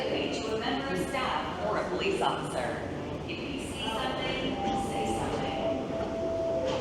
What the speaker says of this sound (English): And it looks like my train is here.